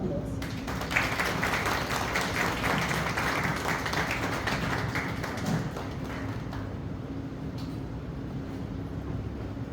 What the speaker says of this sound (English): Please welcome Sri Mahesh Sonawne with a warm round of applause.